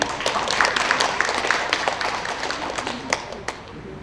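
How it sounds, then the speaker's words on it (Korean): Scattered clapping from an audience at a writers' association general meeting, with sparse, uneven claps over a low crowd murmur for about four seconds. "큰 박수 한번 부탁드리겠습니다."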